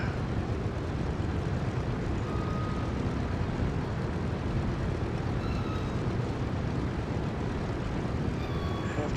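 The piston engines of a DC-3 taxiing in Microsoft Flight Simulator 2024 give a steady, dense rumbling drone that holds constant and close throughout, with no talk.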